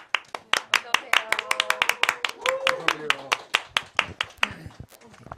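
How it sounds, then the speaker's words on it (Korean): An indoor audience at a Korean discussion program claps to welcome a guest reporter, with sharp, close, irregular hand claps throughout and a voice speaking over them. "박수로 환영하겠습니다."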